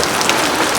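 Steady rain falls on a surface during a rainy morning, a dense, even patter with scattered droplet hits, close and fairly loud, with no voices.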